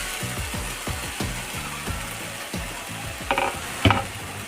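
Chigal leaf vegetable bhaji being stirred in a pan, with repeated scraping strokes in a steady rhythm over a faint sizzle, close and moderately quiet, ending in a couple of sharper clanks against the pan.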